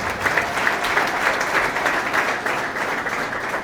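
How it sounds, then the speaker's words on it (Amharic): A church congregation at a prophetic worship service bursts into sustained applause, a thick, even wash of many hands clapping at once that continues throughout. "ለእግዚአብሔር ክብር አጨብጭቡልኝ።"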